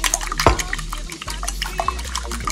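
Eggs with a splash of cold water are whisked briskly in a bowl for scrambled eggs, giving a steady wet sloshing and light clatter, fairly close and continuous with one sharper knock near the start.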